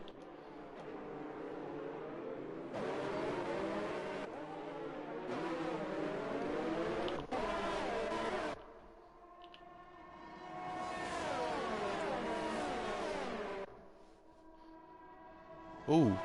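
Race cars scream down the main straight in a racing video game set at Belgium, with high engine notes rising in pitch through repeated gear changes and passing cars overlapping, loud and continuous apart from brief dips.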